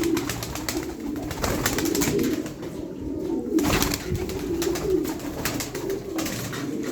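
Several domestic pigeons, including Ankara tumblers, cooing continuously with low throaty murmurs, along with flutters and rustling close by in a coop.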